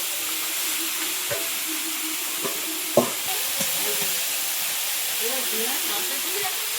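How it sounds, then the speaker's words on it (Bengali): Beetroot, potato and salted, turmeric-coated prawns frying with garlic, onion and chili in a pan; a continuous steady sizzle with scattered clinks and scrapes of stirring, one sharper knock midway. "একটু রসুন, পেঁয়াজ লঙ্কা ভাজা হয়ে গেছে, এবারে বিট আর আলু দেবো।"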